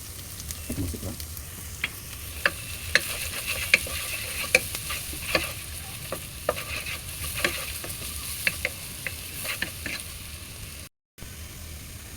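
Onions, turmeric, coriander and chili powder sizzle steadily in a pan for beef haleem while a spoon stirs and scrapes with frequent light clinks, close by.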